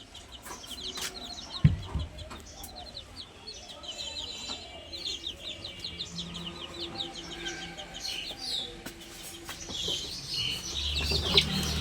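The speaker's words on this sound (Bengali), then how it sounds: "এখানে ফার্মি মুরগি আছে, ফার্মি মুরগির বাচ্চা।" Broiler hens and their chicks in a small home farm cluck and cheep in overlapping bursts at moderate distance, with a faint scrape and bump now and then and no talk.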